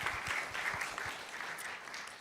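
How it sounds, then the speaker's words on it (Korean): A crowd claps steadily and densely for a couple of seconds after a presentation at a manufacturing AI pitching event, a full room's applause with no voices over it. "큰 박수 보내시면 고맙겠습니다"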